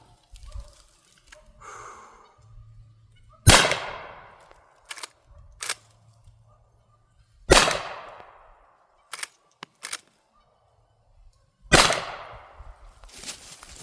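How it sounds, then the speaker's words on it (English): .38 Special revolver fired at a cardboard box: three loud, sharp shots spaced roughly four seconds apart, each with a ringing decay, and small clicks and handling noises in between. "I'm going to shoot that cardboard box, and we'll go check it out."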